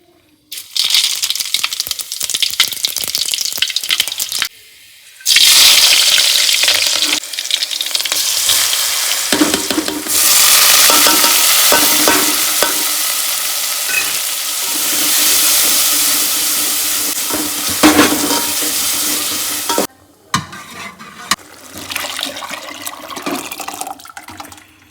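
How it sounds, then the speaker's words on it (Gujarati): Dal being tempered for dal baati hisses in loud, sustained sizzling bursts as it hits hot oil, with stirring scrapes throughout, a few brief gaps of near silence between long, roaring stretches of frying. "મિત્રો આજે હું દાળ વઘારવાનો છું,"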